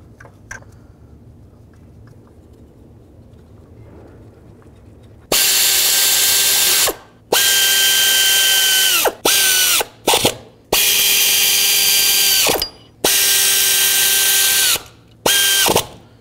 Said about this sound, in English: Now go ahead and install your four bolts and two nuts. Then I'm going to torque them to 53 inch pounds.